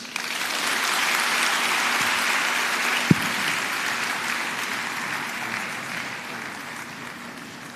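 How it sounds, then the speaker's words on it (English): A lecture audience applauds steadily after a keynote address on central banking at a business school in Lagos, a dense, even wash of clapping that fades slightly toward the end. "Mr. Olayemi Cardoso, deserves another round of applause for such an engaging, timely, and intentional keynote address."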